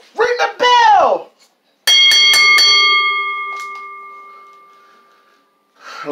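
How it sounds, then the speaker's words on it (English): A wrestling ring bell at a tag team table match is struck several times in quick succession, loud and ringing, its long metallic tone fading slowly after a burst of crowd or commentator voice. "Ring the bell."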